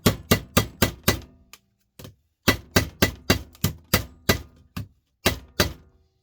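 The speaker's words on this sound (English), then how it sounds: "so I'm going to actually hit that with a hammer" Hammer blows on a telephone being broken open: a run of sharp, loud, close knocks in quick bursts of four or five, separated by short pauses, with a few isolated strikes and no talking.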